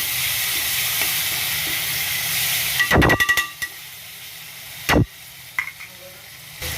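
Tomatoes sautéing in a pan for a country chicken curry, a steady soft sizzle and hiss with a few sharp clatters of a spoon against the pan, no talk.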